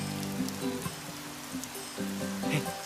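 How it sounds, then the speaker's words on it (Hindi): Rain patters steadily on a surface, a soft continuous drizzle with soft music playing beneath it. "हम जब भी मिलते बारिश होती है।"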